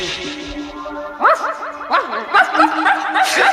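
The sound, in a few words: person imitating a dog barking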